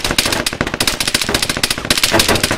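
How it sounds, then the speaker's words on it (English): Loud, close automatic gunfire in Arma 3, rapid bursts of rifle or machine-gun shots hammering almost without pause from start to end. "Taking a lot of fire from the west"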